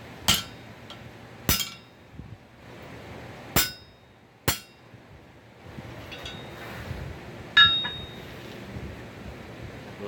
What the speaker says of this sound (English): So I'm going to take a straight peen and knock that down.